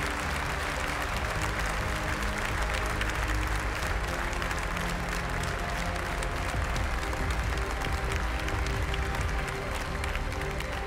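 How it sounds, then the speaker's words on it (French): Steady, dense applause from a large crowd at an agricultural show, honoring livestock breeders after a championship presentation at SIA 2016; loud and continuous throughout with a faint murmur of voices. "je voudrais vous réserver un tonnerre d'applaudissements pour les éleveurs qui ont fait le job"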